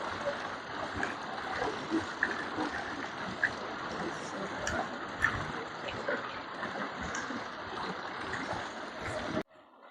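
Water running through stone channels at the Alhambra in Granada, a steady close rushing and trickling wash that continues unbroken until it cuts off at the end.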